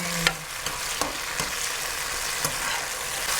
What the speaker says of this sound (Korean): 이게 골고루 들어가게 조금 이렇게 볶아야 돼요.